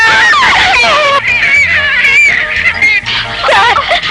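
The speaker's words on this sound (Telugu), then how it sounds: "మా వాళ్ళంతా భయంతో అరుస్తున్నారు సార్" A group of people in a Chiranjeevi action film scene shriek in fear, loud overlapping high wavering screams and wails that continue for several seconds without pause.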